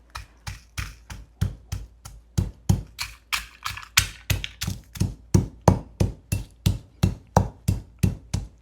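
Coriander stems being pounded for rice pulao, a steady run of about two sharp thuds per second, close and alone.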